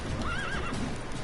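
A horse whinnies loudly in the video game The Witcher 3, with a rising and falling neigh and hoof clip-clops, close and clear with no talking.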